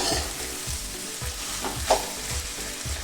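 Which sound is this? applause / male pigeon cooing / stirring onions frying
stirring onions frying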